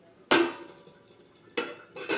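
Metal lid lifted off a pan of Bengali fish kalia curry, giving a sharp clattering clank followed by two more quick rattles, fairly close and with no talk.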